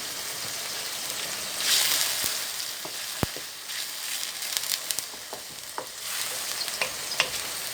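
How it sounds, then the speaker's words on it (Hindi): Onions frying in a pan while shami kababs are being made, a steady close sizzle with occasional sharp clicks of a spoon against the pan, no talking. "थोड़ी प्याज को फ्राई करेंगे हम जब तक इसका कलर ना चेंज हो जाए"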